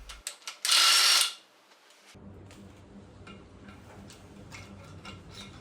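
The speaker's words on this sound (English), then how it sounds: "Once cracked, the head studs can be wound out with an impact driver." An impact driver winds out cracked head studs on a KTM engine during a teardown: a loud burst of hammering rattle, then a quieter stretch of ticking, clicking metal work up close.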